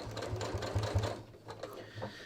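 A sewing machine stitches along the lower front waistband of ready-to-wear jeans near the zipper area, its needle chattering in quick close bursts with brief pauses between runs.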